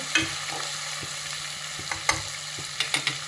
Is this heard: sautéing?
yes